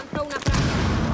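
A sharp explosive blast in Rainbow Six Siege, a thrown grenade going off close by, followed by a rumbling burst of noise that fills the rest of the moment.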